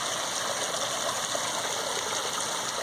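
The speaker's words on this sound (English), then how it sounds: "you got the nice gurgling to one side, the waterfall to the other side, cicadas in the background" Steady rushing and gurgling of water from a backyard waterfall beside a fish pond, a continuous close wash of sound with a high insect drone behind it.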